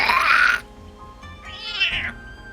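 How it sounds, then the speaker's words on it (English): A cat meows twice, a loud close meow followed by a slightly softer, drawn-out second one, used as a sound effect during a tabletop role-playing game session. "Pulls out a weed cat."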